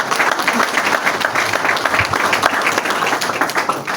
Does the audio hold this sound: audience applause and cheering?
yes